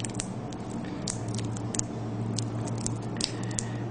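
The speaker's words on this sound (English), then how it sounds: "I'll get another piece of tape. Just wrap that on there." A strip of adhesive tape is wrapped to hold a magnet onto an LED, giving soft crinkling and sticky peeling crackles in short scattered bursts over a steady background hum, close and quiet.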